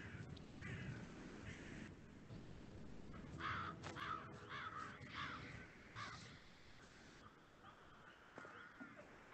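In the video game Hitman 3 in VR, several crows caw repeatedly over a dense, noisy ambient bed, fairly quiet and spread across the scene, with no talk.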